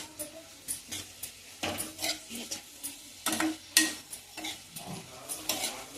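Egg bhurji mixture stirred in a pan, with a steady series of soft scraping and clinking strokes over a faint sizzle, close and fairly quiet, with no voices.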